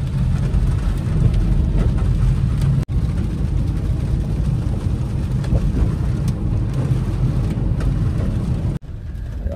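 Steady rain falling on a road in the Margalla Hills near Islamabad, a continuous broadband wash with a low rumble that holds evenly throughout, with two brief dropouts and no talk.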